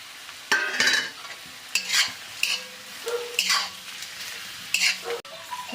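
Potatoes and garam masala stir-fried in a pan for a potato poriyal, a spatula scraping and tossing in repeated strokes over a steady close sizzle, with no voices.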